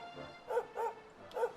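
Sandy the dog barks in Dragon Quest XI, three short, mid-pitched yips spaced about a quarter second apart, then a pause and one more, fairly clear over a soft game backdrop.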